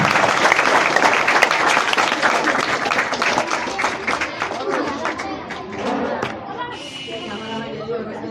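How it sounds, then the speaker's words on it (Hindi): Guests at a Class 8 farewell ceremony at an Urdu school in Pimpalgaon Hareshwar are welcomed with loud, dense applause that gradually thins out, and scattered talk and chatter take over toward the end. "जोरदार तालियों से इनका स्वागत करेंगे"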